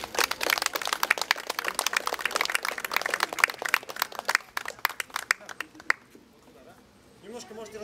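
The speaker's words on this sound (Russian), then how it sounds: "Встречайте ее бурными аплодисментами." Audience clapping to welcome a performer, distinct close claps from a modest crowd in a sharp irregular patter that thins out after about six seconds, followed by quiet murmuring voices.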